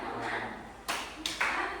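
A few sharp hand claps ring out in a classroom clapping game led by a teacher, three quick, uneven strikes close by against a soft room background.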